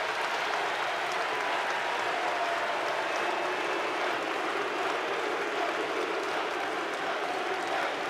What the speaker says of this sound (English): And the crowd you hear is Luka Bogobots coming into the game.